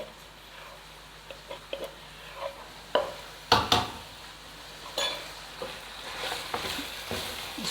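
Chicken for chicken karahi frying in a pan with garlic and ginger, heard as a steady low sizzle broken by scraping stirs and metallic clinks that come in bursts, loudest near the middle.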